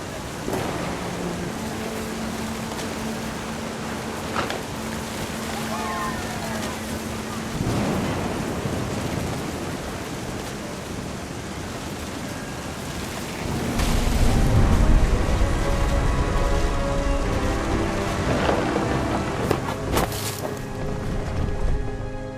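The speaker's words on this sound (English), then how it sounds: "The thunder sounded much too close and full of angry power" Thunderstorm with heavy rain and wind in What Remains of Edith Finch, a steady roaring wash that swells into a deeper rolling rumble of thunder midway, loud and close with no talk.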